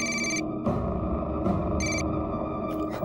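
A telephone rings indoors with repeated electronic trill bursts separated by pauses, loud and close, over a low background hum.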